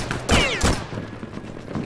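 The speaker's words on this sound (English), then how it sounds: "Give it a rocket launcher." Rocket launcher fire in the game Return to Castle Wolfenstein, with two loud close blasts in quick succession followed by a lingering whine and a faint rumbling tail.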